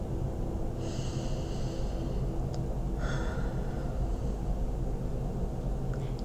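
Deep, slow breathing during a guided meditation, two or three soft inhalations audible close up over a steady bed of low background hiss, with no talking.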